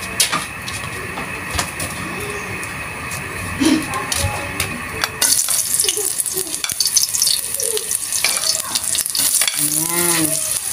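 Onion going into hot oil in a home kitchen as vegetables are cooked, building into a loud, steady sizzle. Stirring and clatter come through nearby, and a voice speaks briefly.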